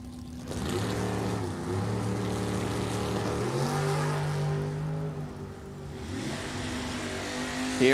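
Drag race cars, a 1972 Nova and a 2012 Yancer-built dragster, launch at a drag strip: steady loud engine roar with rising revving tones that climb and shift over several seconds, heard from a distance with no talk.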